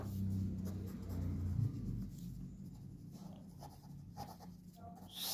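Marker or chalk writing on a classroom board during a Hindi-language English grammar lesson, a steady scratchy stroking that runs for several seconds close to the mic, with no talking over it.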